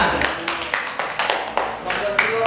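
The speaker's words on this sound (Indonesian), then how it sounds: "Tepuk tangan kepada temannya." Classroom students clap for their classmates in a short burst of ragged, evenly spaced claps, with a voice talking over them.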